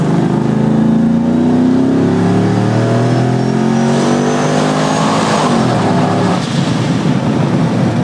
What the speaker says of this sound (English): we're gonna do a single first gear pull